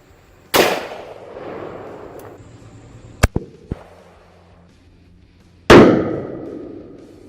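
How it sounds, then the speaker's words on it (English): Two sharp, loud gunshots from a Smith & Wesson .44 Magnum firing a 240-grain bullet into paper plates outdoors, the first near the start and the second about five seconds later, each followed by a decaying echo, with faint clanks between them. "Let's take this shot on the plates and see what happens."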